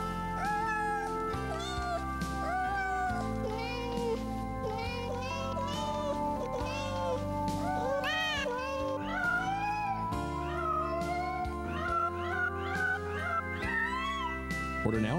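Cats meow in time with a sentimental love song in a 2003 Meow Mix cat food TV commercial, their pitched, melodic meows running continuously over the music at a steady, loud level.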